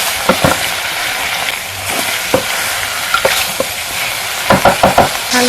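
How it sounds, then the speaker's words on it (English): Two medium chopped tomatoes are stirred in a sizzling frying pan, a soft frying hiss broken by sharp scraping clacks of the utensil that come in quick clusters, close and loud. "2 medium-sized chopped tomato in. Mix it up."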